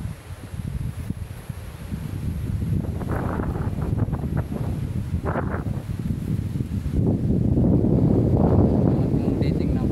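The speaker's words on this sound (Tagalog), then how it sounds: "Ito po yung malakas ang hangin" Strong wind buffets the microphone with a constant low roar that grows louder toward the end, and a voice speaks faintly beneath it.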